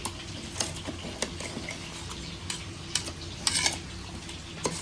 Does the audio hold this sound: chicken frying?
yes